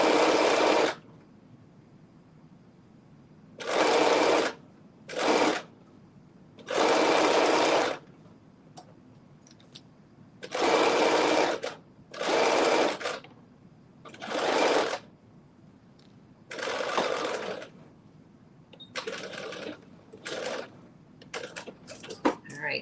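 A domestic sewing machine stitching a garment facing in short bursts of rapid whirring, each a second or two long, separated by quiet pauses, close by.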